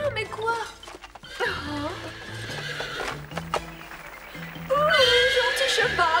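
A cartoon horse whinnies amid lively background music, with hoof clip-clops and brief animated voices mixed in.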